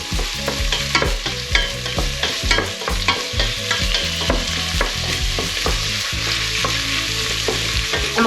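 Prawn heads fry in a pan in a loud, constant crackling sizzle, close up, broken by repeated knocks and scrapes of a utensil stirring them.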